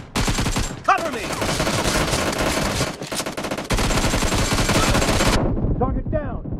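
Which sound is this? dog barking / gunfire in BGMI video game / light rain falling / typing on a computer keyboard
gunfire in BGMI video game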